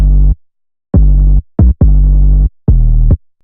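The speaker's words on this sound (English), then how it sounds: "So instead of adding a kick and a sub bass, I put an 808 pattern." An 808 pattern standing in for kick and sub bass in a trap-style beat: long, booming low notes and short punchy hits in a bouncing rhythm, loud and up front with no voices.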